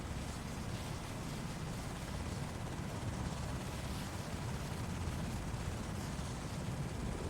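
MH-60 Blackhawk helicopter in Microsoft Flight Simulator 2024, a steady, dense rotor and turbine roar with heavy low-end rumble, constant and loud throughout with no talk.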